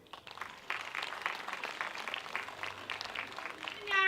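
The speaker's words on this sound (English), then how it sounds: "Your applause, please." Applause from the crowd at the 2014 Gold Coast opening ceremony fills the clip, a bright patter of many hands that swells after a quiet start and keeps going at moderate level, with a voice rising at the very end.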